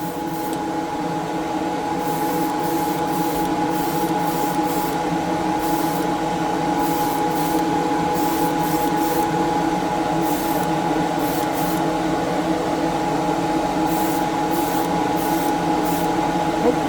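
A cheap Amazon spray booth fan drones steadily throughout while a GSI Creos airbrush with a 0.3mm needle sprays in short repeated hissing bursts, the booth's hum constant and fairly loud beneath them.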